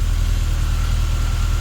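A Mini Cooper 1.3i SPI with 99,500 miles idling, a close, steady, low engine rumble with an even mechanical pulse and no other sounds.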